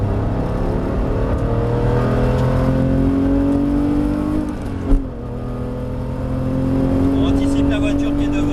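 A GT3 race car accelerates on track, its engine note climbing in pitch, dipping briefly at a gear change and then pulling up again, heard from inside the car while a voice talks over it.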